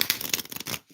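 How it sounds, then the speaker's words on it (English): Tarot cards are shuffled in a quick, crisp riffle of papery flutters that stops abruptly near the end, close and fairly quiet. "let's shuffle some cards for"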